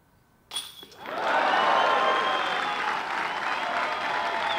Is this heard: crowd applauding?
yes